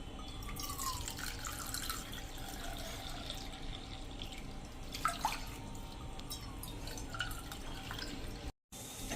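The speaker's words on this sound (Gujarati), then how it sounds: "તો અત્યારે હું બોલમાં જ પાણી નાખી દઉં છું" Water poured from a cup into a bowl holding semolina, in a home kitchen while making rava chakri, a steady light splashing and trickling that runs the whole time at close range, with a brief drop to silence near the end.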